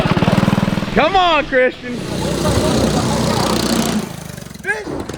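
A homemade go-kart engine chugs and revs at a go-kart jump, a loud, rough motor drone that swells and fades while people shout over it.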